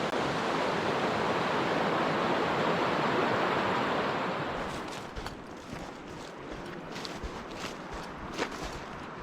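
Tiny waterfall spilling into a river pool in New Zealand backcountry, a steady broadband rush of falling water that drops to a softer, more distant wash about halfway through, with faint scuffs and splashes.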